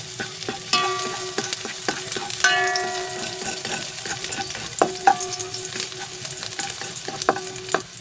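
Garlic sautéing in a little oil in a pan for vegetables cooked in coconut milk, a soft crackling sizzle with scattered sharp pops and ringing clinks of a utensil stirring against the pan.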